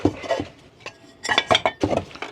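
Pots and pans clink and clatter in several short bursts as they are put away in a shed at a rural Welsh homestead, nearby and fairly loud with brief pauses between handlings.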